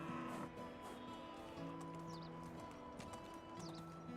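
A horse gallops in Medieval Dynasty, rapid rhythmic hoofbeats close by with a couple of whinnies over steady in-game background sound.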